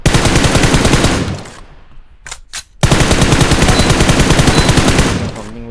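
Loud sustained bursts of rapid automatic gunfire in PUBG Mobile, broken by a brief gap with a couple of isolated shots before the firing resumes.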